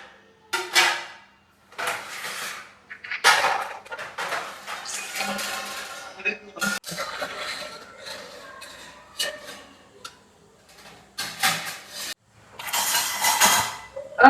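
Steel dishes, pots and utensils clink and clatter in bursts while a home kitchen is cleaned and organized, with irregular clusters of sharp knocks separated by brief pauses and someone speaking at times.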